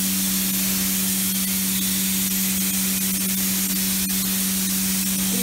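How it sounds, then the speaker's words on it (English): Red iron oxide patina sprayed onto heated bronze, giving a steady, close, continuous hiss of spray with faint rubbing and crackle and a constant low hum underneath, no voices. "spray the whole thing with the red iron oxide"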